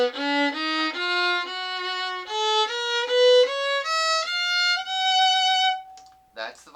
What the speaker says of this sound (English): So violin sounds like this.